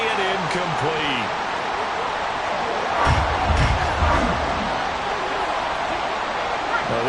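A large football stadium crowd roars through a broad, sustained wash of noise during a game, with a commentator's voice over it.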